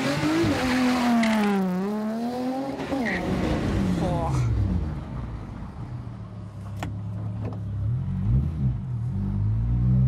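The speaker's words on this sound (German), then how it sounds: "Erste Probefahrt mit dem neuen Auspuff." A tuned small car, such as a Colt, on a test drive with a newly fitted exhaust: the engine revs rise and fall through gear changes, with a tire squeal partway through, and a low, steady drone toward the end, under people talking.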